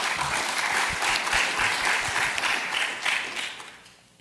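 Warm applause from a conference audience after a technical talk on service meshes, a steady, moderately loud patter of many hands that slowly fades away over a few seconds.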